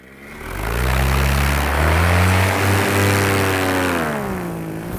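A paramotor's propeller engine drones loudly and steadily as the pilot climbs to altitude over a park, its pitch easing upward, then slowly fading off near the end.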